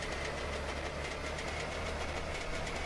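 A passing train in The Long Drive, a steady broadband rumble with faint clickety-clack rhythm, continuous and fairly loud throughout, no talking.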